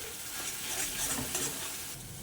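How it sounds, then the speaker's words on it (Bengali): Prawn and pointed gourd filling sizzles and fries steadily in a pan while being stirred slowly, a soft continuous crackle with light scraping throughout, no voices. "এবার আমি আস্তে আস্তে করে নাড়তে থাকবো।"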